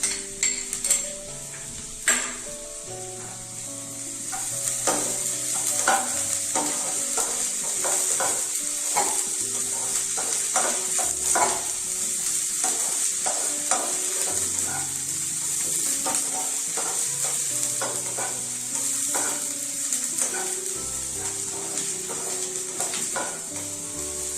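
Chopped garlic, ginger and chili sizzle steadily in hot oil, with a spoon repeatedly clinking and scraping against the pan throughout; a close, busy kitchen sound with no talking.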